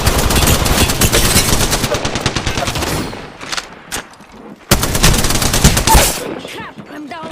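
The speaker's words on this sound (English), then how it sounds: "Something's shooting at me." Gunfire in the video game Apex Legends: loud rapid automatic bursts rattling in fast strings, a short pause, then more sustained firing close up with game effects around it.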